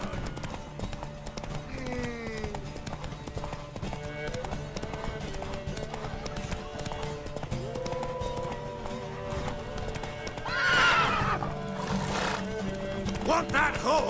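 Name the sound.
horse neighing and hooves in The Witcher 3 video game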